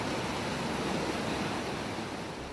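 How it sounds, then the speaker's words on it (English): River water roars through the breached Marmot Dam, a dense, constant wash of turbulent rapids and hydraulic jumps that stays loud and unbroken throughout, with no voices. "The river is roaring now."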